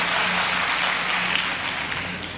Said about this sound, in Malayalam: ഒന്ന് കൈയടിച്ചു കൊടുത്താട്ടെ